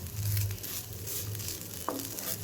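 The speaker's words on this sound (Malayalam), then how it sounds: "ഒന്ന് നെയ്യിലൊന്ന് വാട്ടിയെടുത്താൽ മതി" Grated coconut frying in ghee for a banana cutlet snack, giving a steady, soft sizzle with light stirring scrapes and one brief sharper clatter near the end, with no talking.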